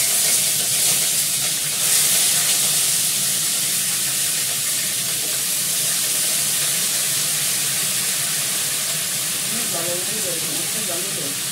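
Cauliflower florets sizzle in a pan of hot oil tempered with cumin seeds, a steady close frying hiss that runs without pause, with a faint voice under it.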